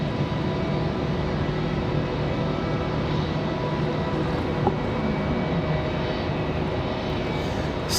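Airplane at Raleigh-Durham International Airport, a steady, distant engine roar holding at an even level throughout with no voices.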